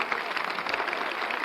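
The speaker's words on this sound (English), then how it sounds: "They're applauding you." An audience applauding Louis Pasteur as he is led onto a platform, a brief burst of steady, moderately loud clapping from a crowd with indistinct voices mixed in.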